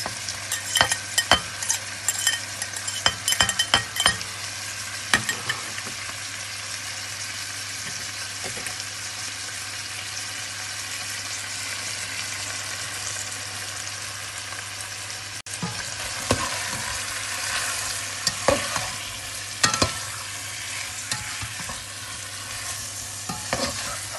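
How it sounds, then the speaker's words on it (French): Garlic and onion sear in hot oil in a cast-iron pot, a steady close sizzle with frequent scraping and stirring clatters throughout, no talk. "Je vais continuer de saisir jusqu'à ce que l'oignon soit décoloré."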